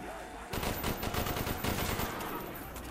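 Rapid automatic gunfire rattles in Black Ops Zombies on the Shi No Numa map, a fast, dense string of shots that starts abruptly and holds for about two seconds before easing off.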